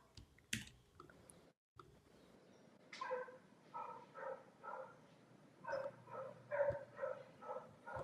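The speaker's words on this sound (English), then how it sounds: "You have an exciting doggy on your side, Michael." An excited dog barks repeatedly in a home in Hawaiian Acres on the Big Island of Hawaii, with bursts of several barks coming in quick clusters at close range over a quiet background with a few clicks.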